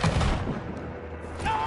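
A single loud gunshot in a video game cracks at the very start, then fades into a low, rumbling tail.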